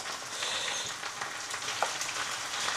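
Potatoes frying in a pan give a continuous crackling sizzle with scattered pops and light stirring, close and steady throughout with no one speaking.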